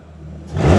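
An Audi B8.5 S5 fitted with an AWE Touring exhaust revs up, the engine rumble rising sharply into a loud, deep roar over under a second, close by.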